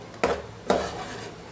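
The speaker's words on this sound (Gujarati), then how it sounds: "સરસ મિક્સ કરી લઈએ." A spoon stirs masala okra (bhindi) in a pan, giving two distinct scraping clatters against the metal, close and fairly loud with quiet between them.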